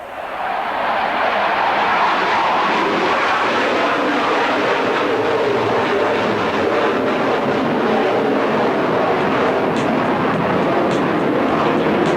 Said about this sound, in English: his F-18 Hornet coming right to left